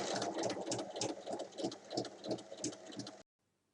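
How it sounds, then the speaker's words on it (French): A sewing machine stitches along a traced line on fabric, its needle running in a steady rapid rhythm close by for about three seconds before stopping abruptly. "Et on vient ensuite piquer sur cette ligne."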